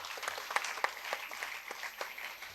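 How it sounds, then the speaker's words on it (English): Conference audience at an international summit applauding a speaker after a talk on maternal and neonatal health care; a steady patter of scattered claps with a few sharper ones, moderately faint and distant, without speech. "let us put our hands together to give ma'am a very good round of"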